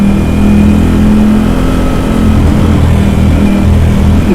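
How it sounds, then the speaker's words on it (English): A loud Ducati Streetfighter V4S with an aftermarket exhaust revs steadily with a deep, throaty exhaust rumble, held high and continuous throughout. "it's louder than the standard exhaust"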